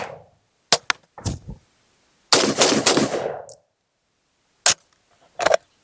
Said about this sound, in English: let's get started and shoot a couple rounds